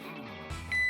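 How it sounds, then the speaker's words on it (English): A water level tester sounds a short electronic beep with its probe dipped in water, a steady tone rising late in the moment over faint low background noise. "This is a water level tester, and as you've probably figured out, when you put the probe into water, it makes a noise."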